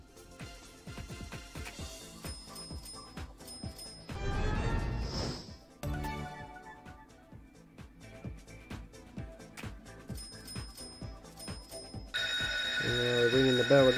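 An online slot game chimes a bright, repeating ringing bell amid busy electronic jingles and clattering effects, with a person talking over the game sounds.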